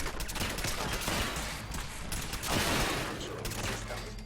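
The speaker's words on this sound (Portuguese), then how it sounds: "Isto foi uma mini nuke." A mini nuke explosion in the video game Fallout 4, heard as a dense, loud rumbling roar with crackling bursts that swells again midway and stays sustained throughout, with no talking over it.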